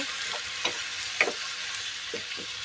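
Onion, garlic and squid sauté in a pan with a soft steady sizzle, broken by several light clicks and taps from stirring.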